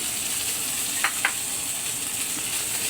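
Fish and tofu sauté in a hot pan with a steady, broad sizzle and two brief utensil stirs near the middle, close and continuous.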